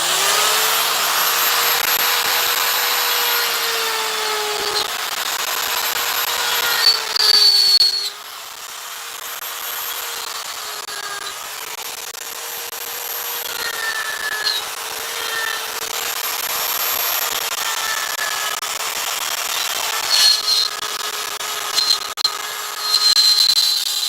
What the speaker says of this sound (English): Die grinder.